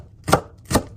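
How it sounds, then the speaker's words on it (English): A knife chopping green onions on a cutting board gives two crisp, close thuds about half a second apart, with quiet between them and no talking. "Finely chop the green onions."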